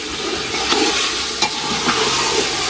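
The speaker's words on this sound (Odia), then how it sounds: "କାଠ ଚୁଲିରେ ରୋଷେଇ ହଉଛି ଧୂଆଁ ଆସୁଛି" Chicken cooks in a pot over a smoky wood-fired stove, giving a steady close sizzle with a few soft stirring knocks.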